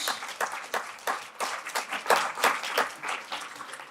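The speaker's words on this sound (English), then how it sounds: "I'm sure you could hear the clapping." An audience at a poetry month gala claps in a brisk, uneven burst of applause, fairly close and steady, with no voices over it.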